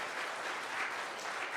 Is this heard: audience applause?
yes